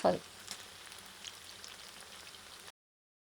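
Boneless chicken pakoda pieces frying in hot oil, giving a steady close sizzle and crackle that runs for a few seconds after a brief louder burst at the start, then cuts off abruptly.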